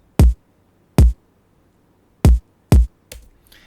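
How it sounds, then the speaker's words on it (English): Four punchy electronic kick drum hits from a Logic Pro X electronic kicks sample set, spaced irregularly and loud, each with a deep boomy body and sharp click, followed by a softer trailing hit. "it's just a simple kick from the Kicks electronic kicks"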